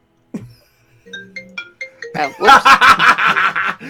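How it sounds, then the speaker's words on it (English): A mobile phone ringtone plays a short rising run of chiming tones, then bursts into a louder, rhythmic melodic pattern of bright repeated notes, close and clear, with no talking. "that's my phone."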